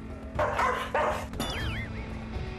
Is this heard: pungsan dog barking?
yes